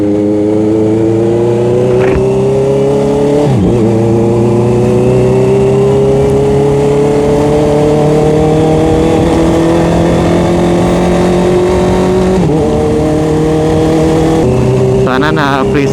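A Honda CBR650R motorcycle with its resonator cut out, a twisted elbow and a carbon muffler revs loudly and steadily close by. Its pitch climbs slowly and is broken by a few short blips near the end.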